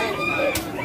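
A Thai rooster at a pet market crows once, close and clear, with a sustained tonal call over faint market background noise.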